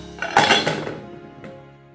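Fresh gooseberries are tipped into a metal pressure-cooker container, making a short burst of close clattering clinks followed by one softer knock.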